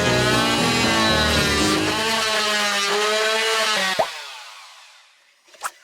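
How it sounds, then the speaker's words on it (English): Oscillating multi-tool cutting during a narrowboat stove installation, a loud, close, harmonic buzzing whine for about four seconds that stops abruptly, followed by a brief clunk. "First time ever using a multi-tool."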